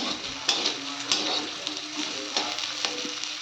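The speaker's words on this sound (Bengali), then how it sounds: "এবার আমি ভাজবো বেগুনগুলো" Eggplant slices sizzling and frying in hot oil in a home kitchen, a steady close crackle with a few sharp pops and stirring clatters.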